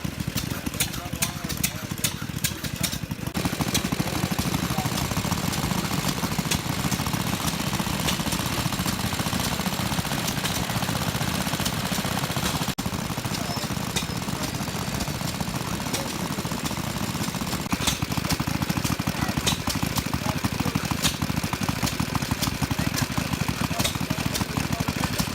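An antique hit and miss engine driving a Home Depot air compressor at an antique engine show, a loud steady mechanical chugging and rumble running continuously throughout.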